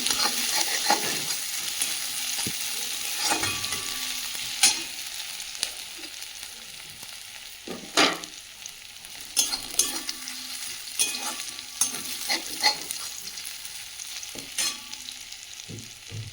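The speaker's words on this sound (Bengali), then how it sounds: "গ্রেট করে রাখা আদা, ভালো করে ভেজে নেব পেঁয়াজ আদার সঙ্গে দিয়ে" Chopped onion fries with grated ginger in a pan, a soft continuous sizzle broken by intermittent scraping stirs and clacks of a spatula, close up and with no one talking.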